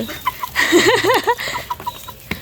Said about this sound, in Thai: เอาเบิ่งเป็ดไก่กิน